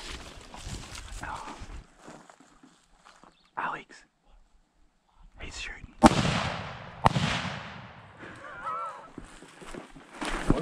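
Gunfire during a hunt for feral horses on public land in Australia's Northern Territory: two sharp cracks about a second apart ring out amid outdoor background noise, with people talking quietly before and after the shots.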